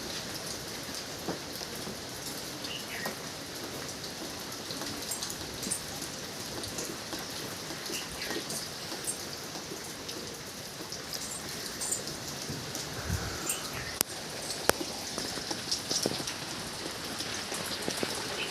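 Heavy rain pours steadily onto surfaces outdoors beside a cotton field, a dense continuous hiss with scattered drips and louder splashes throughout.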